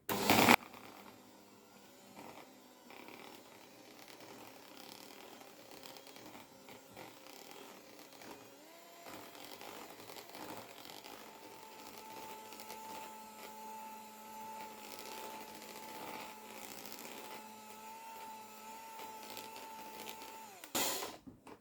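An electric mixer whips cream with powdered sugar for a Christmas cake, giving a steady, close motor whir with a constant hum that runs almost unbroken for about twenty seconds, with no talking.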